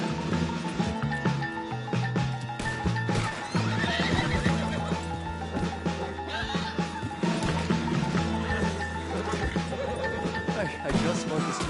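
A horse in the video game Red Dead Redemption 2 whinnies loudly and its hooves clip-clop close by, mixed with crashes, thuds and game music while characters talk over the action.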